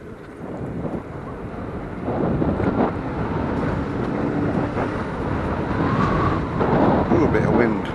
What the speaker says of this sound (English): Ooh, a bit of wind.